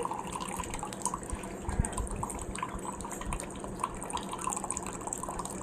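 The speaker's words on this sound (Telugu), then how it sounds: "చూడండి ఇక్కడ మనకు వాటర్ వచ్చింది ప్రోడక్ట్ వాటర్ ఇది" Product water from an RO water purifier runs out in a steady, soft trickling stream that continues evenly throughout with no voices.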